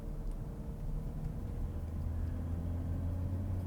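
Steady low engine rumble and road noise from a 2016 Porsche Cayenne Diesel while driving, a continuous droning hum with faint tonal lines and no talking.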